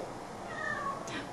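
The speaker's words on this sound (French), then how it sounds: "c'est mon chat qui miaule" A pet cat gives a single faint meow lasting about a second, heard alone against quiet room background.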